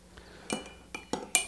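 A lime wedge and peel drop into a Ti Punch cocktail glass, giving a few light, sharp clinks and taps spread over a moment, close and fairly quiet.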